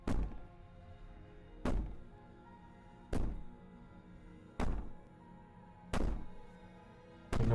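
A trapped princess bangs on a door in Slay the Princess: five heavy, booming thuds at steady intervals of about a second and a half, each ringing out briefly, with quiet between them and no voices.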